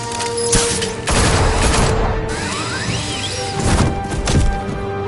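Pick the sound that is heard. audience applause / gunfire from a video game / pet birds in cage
gunfire from a video game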